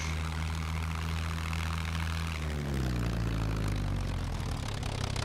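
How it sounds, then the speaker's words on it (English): Continuous drone of an airplane propeller engine in the video game Scum, loud and steady, with the pitch dropping and rising partway through as the throttle changes. "Oh, don't cut the engines too much."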